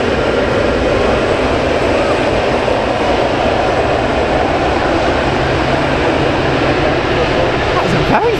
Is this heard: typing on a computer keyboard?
no